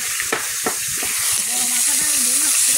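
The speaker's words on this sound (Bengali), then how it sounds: "এই মাছগুলো ভাজা হয়ে গেছে" Pieces of pond fish fry in hot oil in a wok, a steady loud hiss and crackle with a few sharp pops and scraping stirs near the start, and a low tonal hum running underneath.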